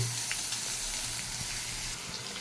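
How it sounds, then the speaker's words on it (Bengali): Ginger, garlic and onion paste with tomato paste fries in a pan, a soft, steady sizzle that runs the whole time with faint stirring and no voices. "আদা রসুন পেঁয়াজটা বেশ ভাজা ভাজা হয়ে গেছে, দিয়ে দিচ্ছি একটা টমেটো পেস্ট করে"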